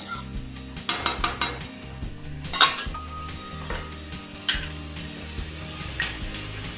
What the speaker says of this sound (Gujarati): શાક જે છે તે ફૂલ ફ્લેમ પર ચડવાના છે